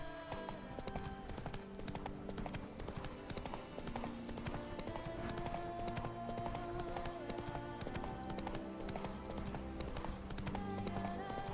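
In The Witcher 3: Wild Hunt, Blood and Wine, the horse Roach gallops with rapid, steady hoofbeats in a continuous clip-clop over a sustained game soundtrack.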